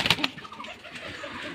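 Pigeons at a pigeon farm in Dhaka give soft, low coos and brief calls, with a burst of wing flapping or scuffling at the start, heard fairly close and moderately quiet.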